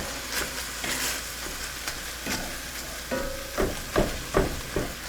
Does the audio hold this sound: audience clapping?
no